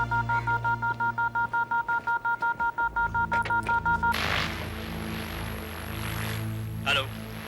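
A rapid train of police wireless signal tones, evenly pulsed beeps repeating for several seconds, then giving way to a loud burst of radio static and a sustained high tone, near and clear with no talk.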